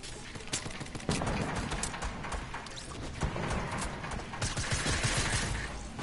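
Rapid bursts of gunfire rattle in a Fortnite match, a dense and continuous volley of shots at fairly low level throughout.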